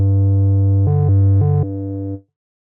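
Two layered wavetable synth oscillators in jitter mode, low-pass filtered, sustaining a steady low tone with two brief brighter swells before fading out, alone and fairly loud.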